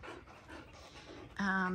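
A dog pants in a garden with quick, steady breaths. The clip ends in a louder, tonal whine or voice.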